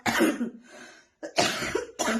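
Three harsh coughs from a cold in quick succession, close and loud, separated by short pauses.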